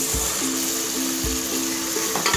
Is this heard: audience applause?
no